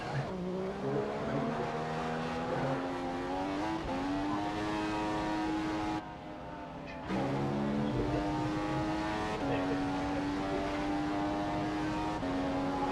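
A Ferrari Formula 1 car engine screaming through a qualifying lap in a video game, a loud, high-revving whine rising through gear changes with brief dips between shifts, a short lull midway before the revs climb again.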